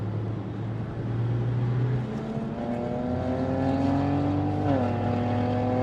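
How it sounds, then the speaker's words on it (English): A Porsche overtakes on the Silverstone race track, its engine droning steadily and rising in pitch as it pulls past, heard from inside another car over a constant low cabin rumble. "What an honour it is to be overtaken on Silverstone by a Porsche."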